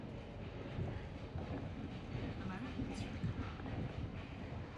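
A sleeper train running from Ho Chi Minh City to Da Nang in Vietnam gives a steady, dense low rumble and rattle of carriages heard from inside, continuous and even throughout.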